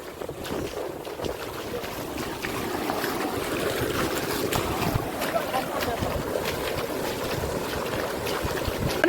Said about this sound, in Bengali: সমুদ্রের যে গর্জন সমুদ্রের যে শব্দ